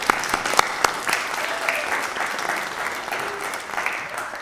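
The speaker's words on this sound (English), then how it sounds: "let's give them a big round of applause" An audience at a district conference claps for first-time delegates in a burst of sustained applause, with a few louder individual claps and faint voices mixed in.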